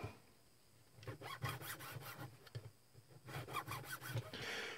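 Mill bastard file rasping in repeated back-and-forth strokes, bursts of scraping in quick groups with short pauses between, close and moderately loud with no talking.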